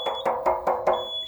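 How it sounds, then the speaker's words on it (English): A heating system's high pressure alarm sounds four or five sharp, evenly spaced electronic beeps, loud and close, with a faint high tone lingering between them and no talk. "Got a high pressure alarm on this."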